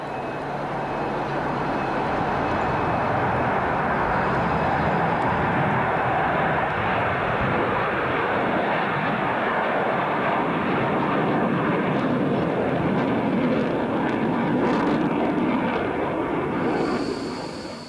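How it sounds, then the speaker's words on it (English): An airplane taking off in a snowstorm: a steady, loud engine roar with broad rushing noise that holds for the whole stretch, without voices. "Despite the snowstorm, the decision to attempt a takeoff has been made."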